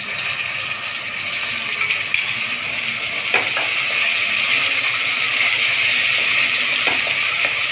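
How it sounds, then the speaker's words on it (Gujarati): Tomatoes frying in a pan for vaghareli khichdi give a steady, close sizzle throughout, with a few light clinks of a utensil against the pan and no talk. "ટામેટાને બરાબર શેકાવા દઈશું."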